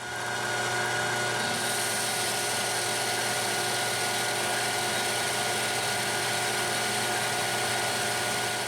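A metal lathe takes a 45-thousandths cut lengthwise on stock for a custom kegerator beer tap handle, giving a steady, loud, continuous machine whine and hum with no pauses.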